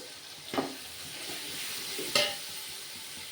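Green chillies, tomatoes and turmeric sizzle softly in a pan for mutton biryani, with a steady low fry and two clear stirring scrapes.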